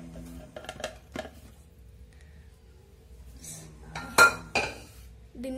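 Flour dough being moved into another vessel, with metal utensils clinking and scraping against pots in sharp, irregular knocks, including a couple of louder clanks near the end.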